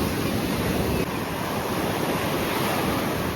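Strong surf roars steadily onto the beach at Sanzhiika, a loud continuous wash of breaking waves mixed with wind.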